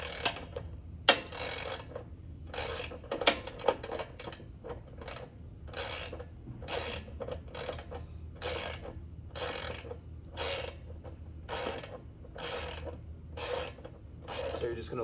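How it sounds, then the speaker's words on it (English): Repeated ratcheting clicks from a 3/4 wrench loosening a mini bike sprocket nut, coming in a steady series of short bursts with brief pauses between strokes, close and fairly loud, with no talking. "you're gonna loosen this nut while keeping the other one held so that they both don't move"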